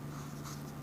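A pen scratches steadily across an exam answer sheet, a soft, continuous writing sound heard close up over a low, steady hum.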